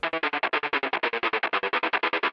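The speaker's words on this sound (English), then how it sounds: "This is just like a little guitar segment I chopped up, put an amp sim on, and then put a LFO tool to kind of make it choppy." A short guitar segment is chopped into a fast, even stutter of loud, regular pulses by an LFO tool after passing through an amp simulator, heard alone.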